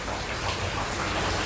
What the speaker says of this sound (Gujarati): વરસાદ વરસે છે.